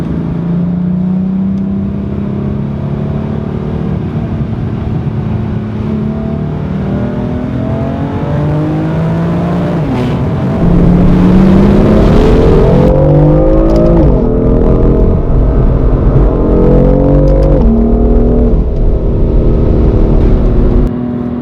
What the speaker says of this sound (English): This car is so loud and savage. There's so much hate for the F80 exhaust